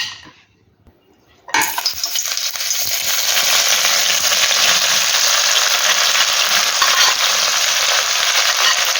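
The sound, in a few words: sliced onions frying in hot oil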